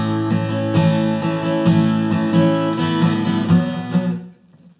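Steady strummed acoustic-style guitar chords from a song, played in open position, a rhythmic run of close, bright strokes that ends on a final ringing chord which decays into quiet.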